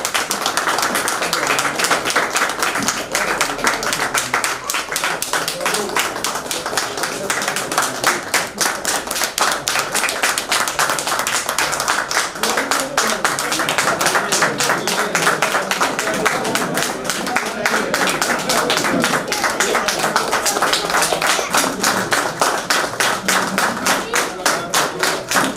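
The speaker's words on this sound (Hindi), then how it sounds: "2 मिनट तक ताली बजा के उनका स्वागत करिए" A crowd claps together at a retirement party in a long, dense, steady round of applause with no pause, and faint voices murmur underneath.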